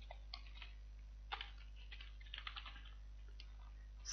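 Quiet, irregular clicking of computer keyboard keys as PHP code is typed, soft taps in small bursts with a few louder strokes and a low steady hum underneath, no voices.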